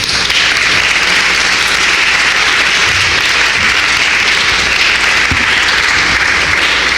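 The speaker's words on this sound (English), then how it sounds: "Please give a warm round of applause for attorney Nikichi Taifa." Steady, dense applause from a large audience, loud and continuous throughout.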